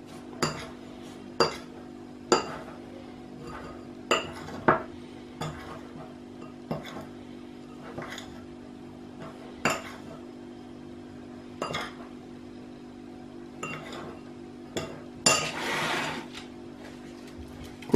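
A utensil clinks against a bowl at regular intervals while grated cheese is stirred into breadcrumbs, with a low steady hum behind the sharp taps and a brief rustling burst near the end.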